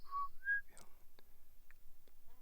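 Two clear whistled notes, the second rising, followed by quiet scattered noises; faint and fairly close, with no talking.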